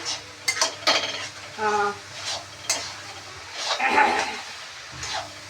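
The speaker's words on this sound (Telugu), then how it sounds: "అల్లం వాసన పోయే వరకు కొంచెం మనము కలుపుకోవాలి" A spoon scrapes and clinks in a pan while garlic chilli paste with ginger is stirred over low sizzling heat, with intermittent metallic knocks and scrapes at close range.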